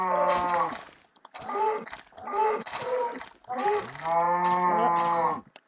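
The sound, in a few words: cows mooing in a video game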